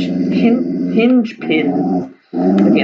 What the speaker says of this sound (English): I apologize for the dog going crazy in the background